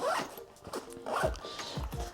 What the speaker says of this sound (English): You can zip everything up, nice and compact.